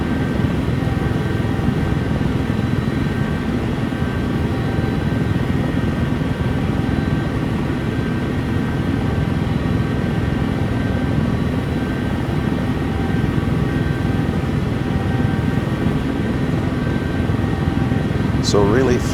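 A Sikorsky helicopter in X-Plane 12 flight simulator: a steady, droning engine hum fills the whole stretch, constant and close, with a brief higher chirp near the end.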